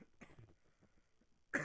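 A person coughing close by during a maths lesson, a few soft rough bursts followed by one sharper, louder cough at the very end.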